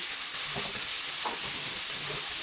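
Vegetables sizzling in a pan with sautéing onion, tomato and garlic, a steady close hiss with a few stirring scrapes, no talking.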